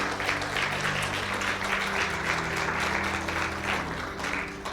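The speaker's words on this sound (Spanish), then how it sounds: "Dele un aplauso al Señor." A church congregation applauds during a Spanish-language sermon, a thick, continuous wash of clapping over low sustained instrumental tones, steady and fairly loud for the whole stretch.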